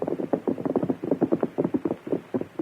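Horses' hooves clop in an uneven, close rhythm on a trail, a cluster of steps that slows and settles as the riders rein up and halt.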